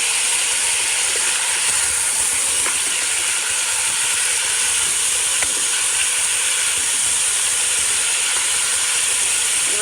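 Chicken frying in a pan for biryani gives a steady, close sizzling hiss that holds evenly throughout, with a few faint ticks and no talking.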